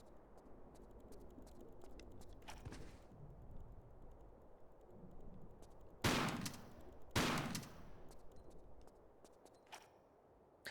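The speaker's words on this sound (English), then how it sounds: "what's crazier than shooting a scorpion with a shotgun is like you need to do it twice" Two loud, close shotgun blasts about a second apart, fired at a scorpion in Tomb Raider: The Last Revelation Remastered, rising sharply over a low, rumbling game ambience.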